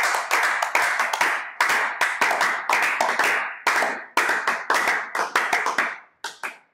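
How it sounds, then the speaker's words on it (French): A church congregation claps loudly in rhythmic bursts during a prayer service, with many hands striking together in quick, dense volleys separated by short pauses, close and energetic. "Acclamons très fort le Seigneur."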